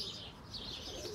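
Birmingham roller pigeons in a loft, soft low cooing with faint chirps and a steady murmur of birds, quiet and continuous.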